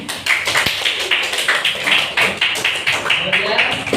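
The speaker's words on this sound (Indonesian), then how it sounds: "Oke, beri tepuk tangannya." Classroom students clapping together in a steady burst of applause, dense overlapping hand claps close by lasting throughout, with a few voices mixed in.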